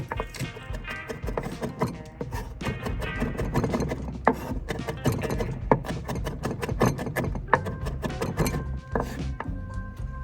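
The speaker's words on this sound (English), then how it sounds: "Nine cloves of garlic. So we're just gonna smash it out real quick like that" Garlic cloves, nine of them, smashed on a board while making herb butter, giving repeated sharp knocks and thuds against a busy background clatter, close and moderately loud with no talking.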